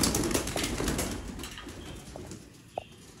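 Antique pigeon from a pigeon-keeping setup, with soft cooing and bird sounds over a noisy outdoor background, plus a few faint clicks and one sharp knock near the end.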